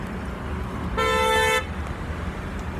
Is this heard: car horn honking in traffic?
yes